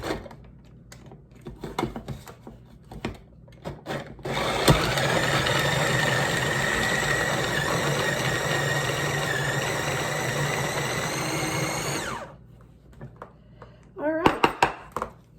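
An electric food chopper whirs steadily for about seven seconds as it shreds zucchini-boat vegetables under its lid, loud and close with a high motor whine, framed by soft handling clatter and brief talk before and after.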